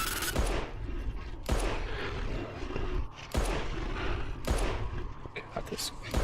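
Gunshots in the horror video game Mask of Fobia, set in the St. Dinfa Hotel: loud single reports repeat roughly every second or two over a steady, noisy game background.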